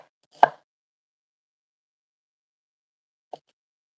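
A knife strikes a cutting board once while coring an onion, a sharp single chop, followed about three seconds later by a faint second tap, in an otherwise quiet kitchen.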